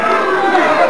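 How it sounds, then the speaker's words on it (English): Wrestling crowd chanting in an arena during an NWA St. Louis match, a dense, sustained roar of many voices filling the space for a brief moment with no clear break. "The crowd begins chanting Bruiser and Andre."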